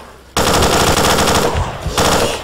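Loud, dense machine gun fire in the video game STALKER: Shadow of Chernobyl, a rapid continuous burst that dips for a moment and then hammers on again, close and dominant with no voices.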